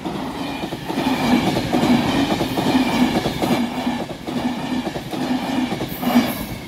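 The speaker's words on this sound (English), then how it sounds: "that was for your 1306 Northern Ireland Railway service from Belfast Lanyon Place to Dublin Connolly" A Northern Ireland Railways passenger train rumbles steadily past a level crossing at close range, its wheels clattering rhythmically over the rails with a faint squeal of metal near the end.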